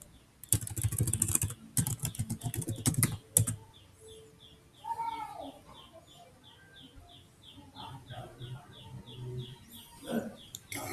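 Rapid keyboard typing in bursts during a Linux terminal install, loud and close for the first few seconds, then sparse keystrokes with chirping birds outside and some faint speech.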